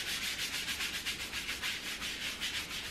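Steady rhythmic scrubbing of a sink with a gritty cleaner, with quick repeated rasping strokes at an even pace, close and fairly quiet, with no voices.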